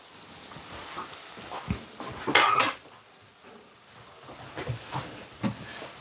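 Dishes and cutlery clink and clatter nearby as plantain and saltfish are plated, with one sharp ringing knock near the middle and lighter scrapes and taps around it, and no talking.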